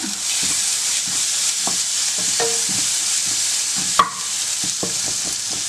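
Dried shrimp sizzle steadily in hot oil in a pan, a continuous close frying hiss broken by soft scrapes and taps of stirring and one sharp knock partway through.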